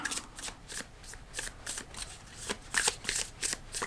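A deck of tarot cards is shuffled close up in a quick series of crisp riffling, slapping bursts that grow denser toward the end, with no talking over them.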